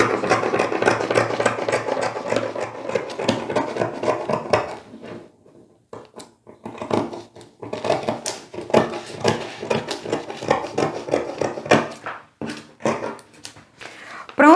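Scissors cutting folded knit fabric for children's pajamas, a run of close snipping and rustling crunches, denser at first, then sparser with pauses, with someone speaking over parts of it.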